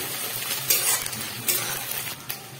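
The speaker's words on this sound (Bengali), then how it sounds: "চলো এইটাকে ভালোভাবে নেড়ে মিক্স করে নিই" Chowmein tossed with masala in a hot pan, a steady sizzle punctuated by three or four clattering scrapes and clinks of the spatula against the metal, close and loud, no talking.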